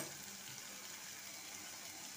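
Egg curry with poppy seed water sautéing in a pan, a steady soft sizzle and frying hiss close by, continuous and even throughout with no talk.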